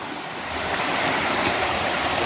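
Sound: forest stream of rainwater flowing

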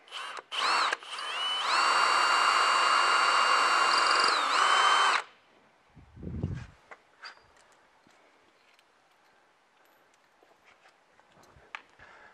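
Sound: power drill drilling a hole

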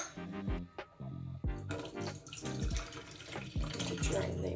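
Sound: rinsing seeds with tap water

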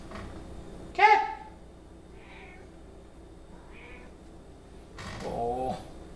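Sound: cat meowing and purring

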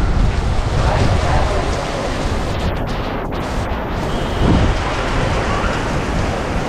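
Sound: rain and thunder

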